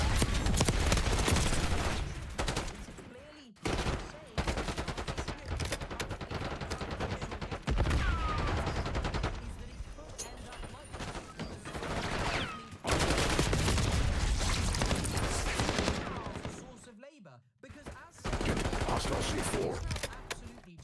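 A decoy grenade in Black Ops 6 spitting out fake gunfire, loud rapid bursts of automatic shots in long volleys broken by brief silent gaps, with overlapping battlefield noise.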